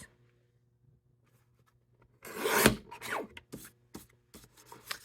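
A paper trimmer slices through cardstock for a first layer, a raspy scraping cut that starts after two seconds of near silence and is followed by a few shorter rustling strokes and taps of paper close by.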